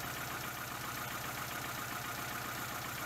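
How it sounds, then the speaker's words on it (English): A car engine idles steadily with an even, rhythmic low pulsing, faint and continuous with no talk over it; the start itself is not evident. "Start the engine."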